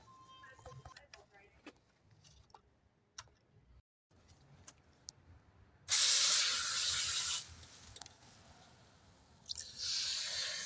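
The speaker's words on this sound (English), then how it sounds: "as I water this, the soil settles in and I can tell if I need to put more in or not." Faucet water sprays onto soil in a plant pot as it is watered, a loud hissing splash in two bursts among quieter ticks and drips, with a person talking briefly.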